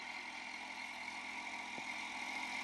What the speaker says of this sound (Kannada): ಕುಬೋಟಾ 24 HP ದ ಟ್ರ್ಯಾಕ್ಟರ್ ಇದೆ